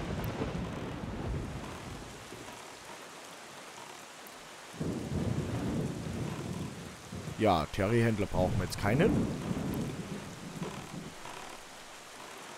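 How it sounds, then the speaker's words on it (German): Rumbling thunder and steady rain in the video game Zelda Wind Waker HD, with a heavy thunder crash rolling in midway and rain hissing throughout, while someone talks over it. "Mehr Gewitter. Noch mehr Gewitter. Und es beginnt zu regnen."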